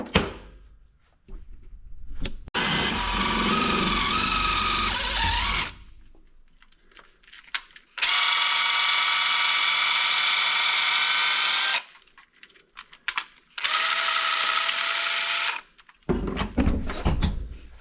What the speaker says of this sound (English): So let's drill this out.